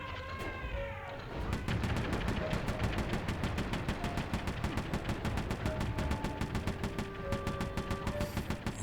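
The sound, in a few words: powerful cannon firing in Sly 3 video game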